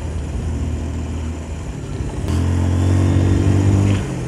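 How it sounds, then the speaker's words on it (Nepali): A modified motorcycle engine revs steadily up close, its low droning note rising louder and fuller midway and holding before easing off at the end. "बाइकले चाहिँ मिठो फालिरहेको छ होइन"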